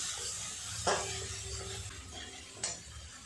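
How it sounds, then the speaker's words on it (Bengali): Spices with red chili powder are sautéed in a pan under a quiet, steady sizzle, broken by two sharp scrapes of a stirring utensil, close and without speech. "খুব ভালো করে সমস্ত মশলাটা একটু কষিয়ে নেব"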